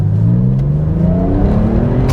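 Porsche 911 engine revving hard in first gear, a loud, close, rising whine that climbs steadily in pitch over about two seconds, with no voices.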